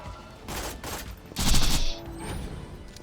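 Rapid bursts of gunfire from the Borderlands shooter game, a dense volley rising to a loud peak mid-clip over steady game noise and effects, with no talking.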